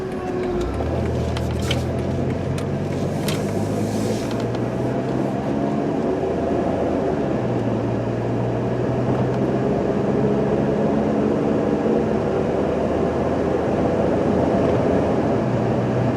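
A 2001 Dodge Grand Caravan Sport minivan's engine revs up steadily from inside the cabin, its drone climbing in pitch through several gear changes up to 50 mph over constant road noise.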